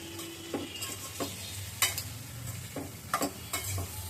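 Curry being stirred in a pan, soft sizzling under a series of spoon scrapes and knocks against the pan at an irregular pace, close and fairly quiet.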